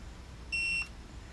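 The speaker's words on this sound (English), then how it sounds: "hold it till it beeps" A single short electronic beep from a TST tire pressure monitor display in a 2012 Tiffin Allegro Red motorhome as the set button is held, clear and near against a quiet background.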